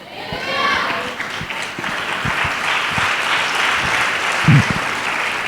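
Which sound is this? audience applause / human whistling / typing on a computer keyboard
audience applause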